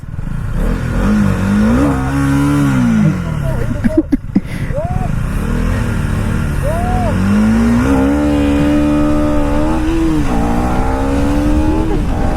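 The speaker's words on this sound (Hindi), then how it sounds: "सो गाइस होने वाली ड्रैग रेस।" Kawasaki H2R motorcycles in a drag race, engines revving loud and close with rising, sustained roars and pitch climbs, a brief sharp burst midway, people talking over the engine noise.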